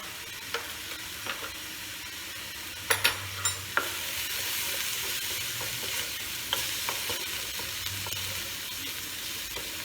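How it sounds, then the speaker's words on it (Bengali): Egg korma frying and being stirred in a pan with a sour yogurt mixture, with a steady sizzle and scattered scraping clicks of the spoon, close and loud, with no voices. "টক দই মিশ্রণ দিয়ে কষবো।"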